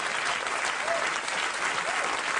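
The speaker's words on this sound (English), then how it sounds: "the audience just gave that a round of applause" A late-night talk show studio audience bursts into a round of applause, a thick continuous wash of clapping heard up close, with faint voices briefly rising beneath it.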